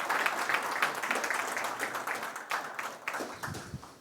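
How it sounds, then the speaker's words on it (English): A large audience at a pharma healthcare summit and awards ceremony applauds steadily for an honored guest, dense clapping holding at an even level throughout without any talk over it. "let's give him a huge round of applause"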